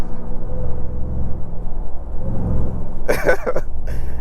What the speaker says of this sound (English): The supercharger, just you can hear everything.